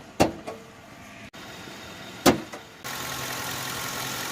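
A Mercury Grand Marquis police car's 4.6 liter V8 idles quietly in the background, a low steady hum broken by a few sharp clicks and knocks near the start before the engine drone settles in.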